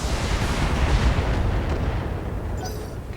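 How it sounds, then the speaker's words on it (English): A mech fires a full weapons salvo in the Battletech video game, a dense, loud roar of overlapping blasts and explosions that slowly fades toward the end. "Firing a full salvo."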